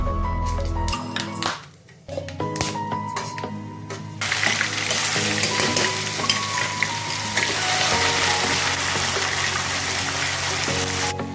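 Bay leaf, cloves, cardamom and cinnamon drop into hot oil while a mutton curry gets started, and a loud, steady sizzle follows, with occasional stirring and clanking from the pan.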